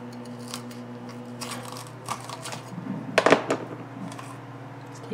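A knife cuts the core out of a pepper being prepared for venison stuffed peppers, making soft crunchy snips and crackles close up, with a sharper crisp burst near the end.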